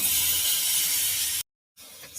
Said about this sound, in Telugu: ప్లస్ మన పన్నీర్ పీసెస్ వేసేస్తున్నాను ఇందులో.